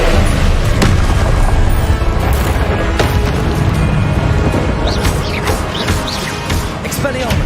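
Incendio fire spell cast in the video game Hogwarts Legacy, a dense continuous roar of flame and booming magical impacts with crackling bursts, loud and sustained throughout under game voices.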